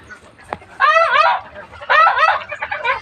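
Indian Runner ducks on a poultry farm give two loud bursts of harsh, honking calls, each close by and lasting about half a second, over a quiet background with a brief knock before them.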